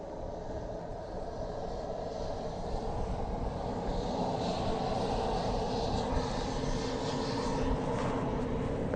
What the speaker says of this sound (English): there is the Airbus